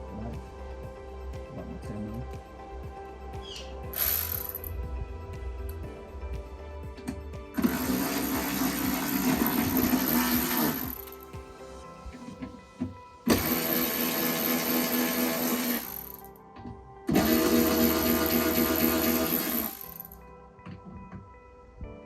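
Power tool driving out the four window regulator bolts inside the door of a 1997–2001 Honda CR-V RD1: loud, close whirring bursts of a few seconds each, separated by short pauses.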